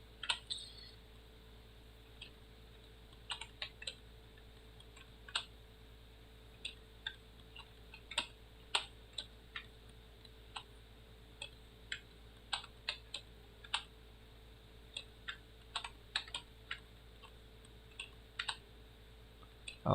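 Scattered keyboard taps and clicks on a computer during 3ds Max and Photoshop texturing work, sparse irregular keystrokes, fairly faint and close, over a steady low electrical hum with no talking.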